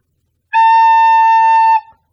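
A recorder sounds one steady, pure A with every hole covered, held clean and loud for over a second before stopping, played alone in silence.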